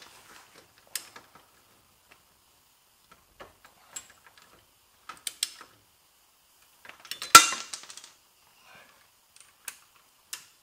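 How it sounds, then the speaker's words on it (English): A hand ratchet tightens the rear axle and tie rod bolts on a Toyota AE86. Sparse, close metallic clicks come in short clusters, with one louder rattling burst midway and no voices. "go ahead and just torque these guys down to 48. Let me just tighten them"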